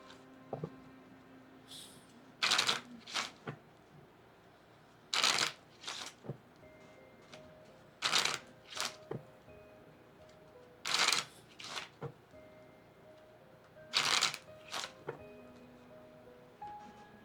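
Playing cards shuffled in several separate bursts, each a quick crisp riffle followed by short pats, spaced a few seconds apart against a quiet room.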